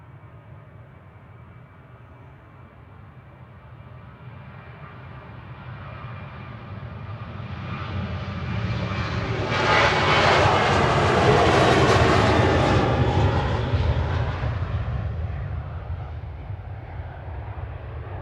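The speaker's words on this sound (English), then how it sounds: "Year-old 737-800 there, heading off to Marrakesh in Morocco with flight 3126 for Ryanair" Ryanair Boeing 737-800 taking off at Manchester Airport on a flight to Marrakesh, a jet roar that builds from a distant rumble to a loud peak midway, then slowly recedes.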